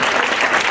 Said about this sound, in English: I want to ask for a big round of applause for all of them.